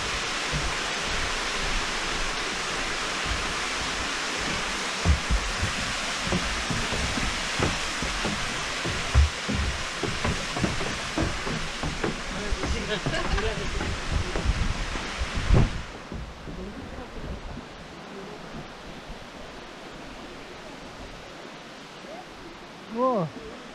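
A steady broad rush of falling water from a waterfall at Sanjeong Lake fills most of the clip, with voices talking over it, then the roar drops abruptly to a quieter background.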